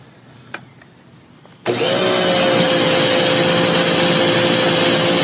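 A Swipe Smith pressure washer with the red nozzle starts spraying: after a quiet, faintly noisy lead-in, a loud, steady rushing hiss with a humming motor tone cuts in abruptly and runs unbroken to the end.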